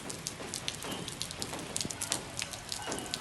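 Heavy monsoon rain in Sikar, Rajasthan falls as a steady, dense hiss with scattered drop splashes, continuous and fairly faint throughout.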